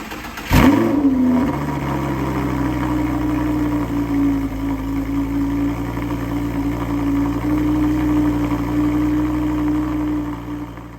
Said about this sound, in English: Okay, cold start, 2010 Audi R8.